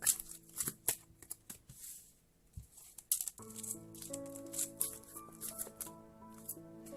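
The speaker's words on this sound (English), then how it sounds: "One more shuffle, they say." Tarot cards shuffled by hand in quick, close, papery riffles and taps, a loose rattling rhythm with short pauses, joined later by soft sustained background music.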